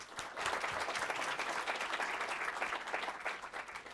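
An audience at a policy panel on climate variability in South Asia gives its three speakers a round of applause, many hands clapping in a steady, fairly distant rattle that keeps going for several seconds.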